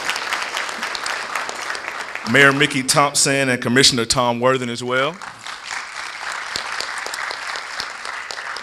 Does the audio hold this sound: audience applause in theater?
yes